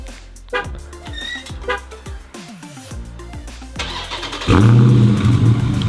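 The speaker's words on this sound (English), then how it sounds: "Let's jeez. All right, one more time." A Dodge Hellcat engine cranks in several short, stuttering bursts before catching and firing into a loud, deep, steady rumble close by.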